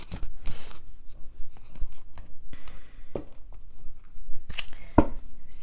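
Lenormand cards drawn from a deck, soft irregular papery slides, taps and shuffles at close range with brief rustling bursts.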